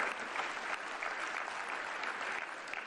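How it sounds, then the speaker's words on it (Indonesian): Applause for elementary school students at an Indonesian presidential address: a steady, dense crowd clapping that holds evenly throughout. "Mari kita beri tepuk tangan kepada"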